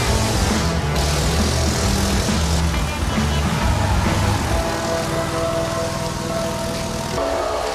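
A four-wheeled car riding a wall of death, a loud continuous engine roar that shifts pitch as it circles, with rushing noise and no pauses.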